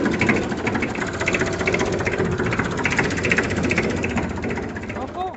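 A tractor engine runs close by, driven over a helmet as a test. It makes a steady, loud, chugging diesel idle with rhythmic pulsing throughout, and people talk over it.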